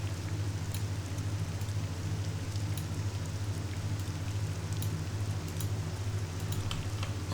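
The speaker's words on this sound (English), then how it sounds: "Oh man, listen to that rain." Steady rain ambience from The Elder Scrolls III: Morrowind, an even wash of patter and hiss with a constant low hum beneath, sustained throughout without pauses and no voices.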